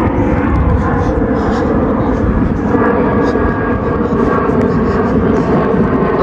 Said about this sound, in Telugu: ఇక్కడ ఫ్లైట్ ఎయిర్పోర్ట్ ఇక్కడే ఉంటుంది మాకు క్లోజ్గా, సో ఫ్లైట్ ఇక్కడే ఉంది.